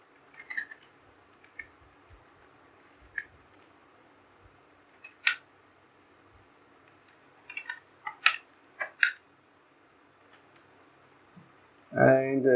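Keys on a computer keyboard are tapped while entering Nepali text with Google's input tool, giving sparse, faint clicks that cluster into a quicker run midway before a voice begins at the end.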